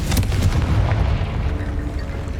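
Confringo fire spell going off in Hogwarts Legacy, a heavy booming burst with a sharp attack that rumbles on and fades over a couple of seconds, with no talking.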